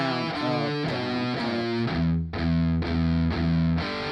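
A heavily distorted electric guitar plays a riff, with loud chugging palm-muted notes and a steady driving rhythm throughout.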